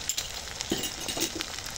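Chicken tehari spices, with cumin and coriander powder, sizzling and frying in a pan while being stirred, a soft steady hiss with a few faint scrapes of the spoon.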